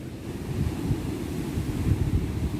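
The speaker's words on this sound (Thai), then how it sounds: "ลมมันแรงมากอ่ะ" Strong, cold wind blows at a Thai beach at Pranburi during a storm, a steady low roar buffeting the microphone with rough surf mixed in, continuous and loud with no voices.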